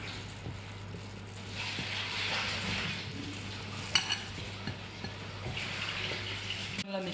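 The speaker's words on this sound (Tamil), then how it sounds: "இப்போ இதை நல்லா நம்ம மிக்ஸ் பண்ணிக்கிறோம்." Pancake batter of flour, salt, sugar and baking soda being stirred in a bowl, a soft, continuous scraping and swishing with a few light clinks, fairly faint, with a low background hum.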